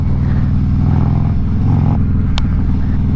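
A Harley-Davidson Road King with upgraded Ohlins suspension rumbles loudly and steadily through town streets, its deep engine throb shifting as the rider works the throttle, with a brief sharp click near the end.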